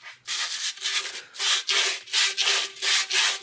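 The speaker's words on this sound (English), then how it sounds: "I'm using 150 grit sandpaper." Trekking pole carbon shaft being sanded by hand with 150 grit sandpaper, loud close rhythmic back-and-forth strokes, about a dozen rasping passes with brief gaps between them.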